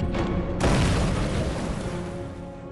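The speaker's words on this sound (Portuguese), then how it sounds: "ele pegou uma granada e lançou na direção de Léo Major" A hand grenade blast from a Second World War battle, a single heavy boom that bursts in loudly after a brief lead-in, then leaves a long rumbling, crackling roar.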